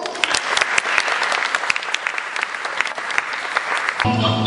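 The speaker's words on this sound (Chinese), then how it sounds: "我们一起欢迎今天的参赛者，请给予热烈的掌声。" Warm audience applause welcomes contestants onto the stage at a children's costume show, dense continuous clapping from a crowd, loud and close, with music entering at the very end.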